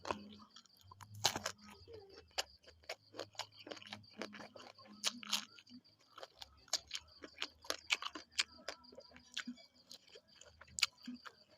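Crunchy food being chewed close to the mouth during a meal of spicy squid salad, sticky rice and crisp eggplant: steady, irregular crisp crunches at low volume with no talking.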